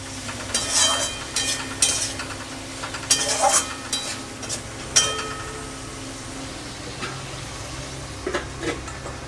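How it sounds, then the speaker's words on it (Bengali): Potatoes being stirred into a rohu fish curry with bitter gourd in a pan, giving a few close clinks and scrapes of the spatula early on over a faint low sizzle that carries on quietly afterward. "আলুগুলো দিয়ে নেড়ে চেড়ে আর একটু ঢাকা দেব"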